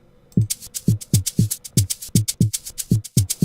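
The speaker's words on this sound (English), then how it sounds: "this is my second 808 kick over here" An 808 kick in FL Studio thumps in a steady, even beat of about two hits per second, with bright ticking percussion over each hit and no talk.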